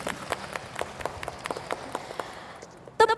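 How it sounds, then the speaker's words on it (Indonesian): Sunday school children clapping in praise of Jesus at an Advent service: a quick run of irregular claps, fairly close and moderate in loudness, ending with a brief sharp tonal burst. "Tepuk tangan dulu untuk Tuhan Yesus."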